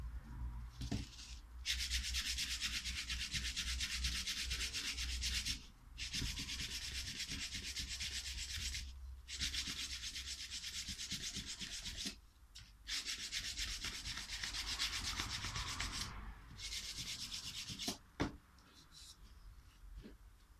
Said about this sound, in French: On va remettre un petit coup de ponçage quand même.